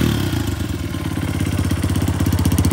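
A modified 2003 Honda XR100R dirt bike idles close by with an aftermarket exhaust, its small single-cylinder engine giving a rapid, even, throbbing putter with no talk over it.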